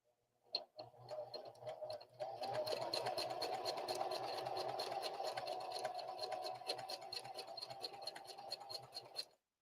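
A sewing machine stitches a fabric poppet, with a few tentative clicks followed by a steady, fast mechanical whir with a fine rhythmic chatter, close and moderately quiet.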